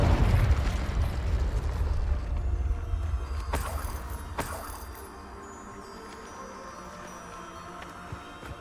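Confringo blast spell cast in a wizarding video game: a deep rumbling explosion with two sharp bursts partway through, then a low fading tail.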